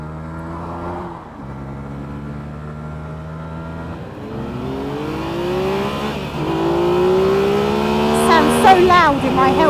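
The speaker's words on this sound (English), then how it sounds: "Sounds really loud in my helmet, your engine." A light A1-class motorcycle engine revs loud and close as it is ridden, heard from inside the rider's helmet, its droning note climbing repeatedly as it accelerates, with voices talking over the intercom throughout.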